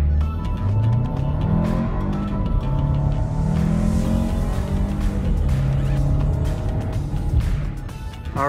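A 2020 VW Cross Sport with the 2.0 turbo engine accelerates from 0 to 60 mph in sport mode, its engine note rising steadily in pitch through the gears. The sound is loud and continuous, with brief dips at the shifts.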